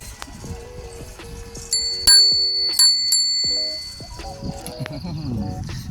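A bicycle bell rings several bright, clear dings in quick succession, loud and close, on a ride past a village temple, with outdoor background noise and brief voices around it.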